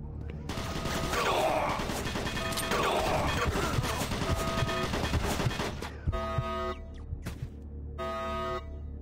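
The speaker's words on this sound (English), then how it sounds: "Automated turret guns online" Automated turret guns in Doom 3 firing rapid, loud mechanical bursts amid crashing impacts and game noise, with a voice heard over the chatter of fire and sharp isolated shots near the end.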